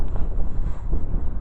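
Strong wind gusts of around 30 mph rumble and buffet the microphone nonstop, a close, heavy low roar during a high-wind storm in Carrollton, Ohio.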